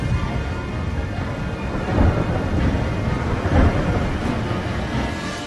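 A thunderstorm with steady heavy rain, low rumbling thunder rolling continuously beneath the downpour and swelling in louder surges, with no voices.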